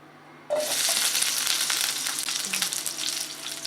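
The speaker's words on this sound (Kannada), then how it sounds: "ಈ ಮಸಾಲೆಗೆ ಬೇಕಾಗಿರೋ ಐಟಮ್ಸ್ನ ಸ್ವಲ್ಪ ಫ್ರೈ ಮಾಡ್ಕೊಳ್ಳೋಣ" Onion with whole spices such as cinnamon and cloves dropped into hot oil for a bean curry masala: after a brief quiet moment a loud, close sizzle bursts in and crackles steadily, with no voices.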